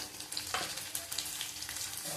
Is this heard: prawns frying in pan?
yes